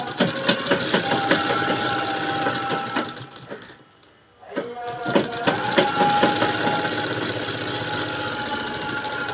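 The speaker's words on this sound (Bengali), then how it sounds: "এইরকম করে সেলাই করে যাবেন" A sewing machine runs steadily through folded fabric, a fast rhythmic mechanical stitching that stops briefly for about half a second, then starts again and continues at the same pace.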